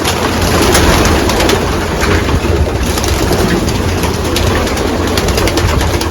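Pigeons in a loft coo and flutter in a steady, dense chorus, with constant rustling and bird calls close by throughout, no talk.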